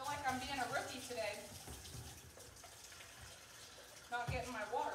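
Tap water runs into a sink nearby during a painting session, a steady splashing flow beneath a voice that talks at the start and end.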